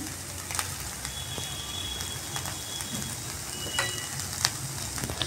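Potato pieces frying in a hot pan give a steady, moderately loud crackling sizzle with scattered sharper pops throughout, and no one speaks over it.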